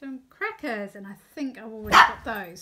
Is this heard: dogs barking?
yes